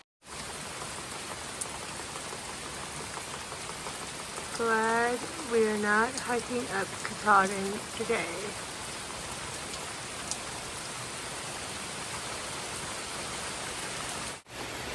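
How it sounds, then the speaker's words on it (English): Steady, dense rain patters on a surface close by for the whole stretch, while a person briefly speaks partway through. "It's still raining."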